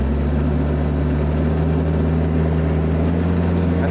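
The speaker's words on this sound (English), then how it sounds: "Turn our tiller on." An IronCraft tiller running under throttle, a loud, steady engine drone with a strong low hum that holds constant from start to finish.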